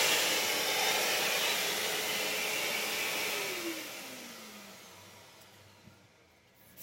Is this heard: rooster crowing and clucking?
no